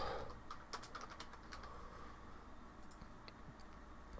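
Someone works a computer keyboard and mouse, giving a quick, uneven string of close, crisp clicks and key taps over faint room hiss, with no talking.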